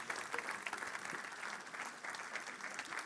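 A church congregation applauds and cheers together in a steady, dense wash of clapping that keeps going throughout at moderate loudness, with crowd voices mixed in.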